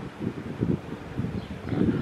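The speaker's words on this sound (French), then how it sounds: "Ah, le petit vent là." Light outdoor wind buffets the microphone in uneven low gusts, a steady rustling rush that swells and fades over a couple of seconds with no talk.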